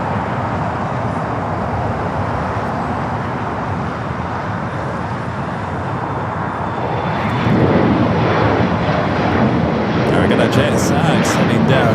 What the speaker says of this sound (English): JSX heading down taxiway Alpha.